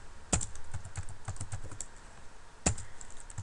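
Keystrokes on a computer keyboard while correcting C code, a quick run of light close clicks with two sharper louder taps, no talking.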